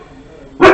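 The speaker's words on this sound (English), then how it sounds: "That's the dog." A single loud dog bark bursts out near the end after a quiet stretch of faint room hum.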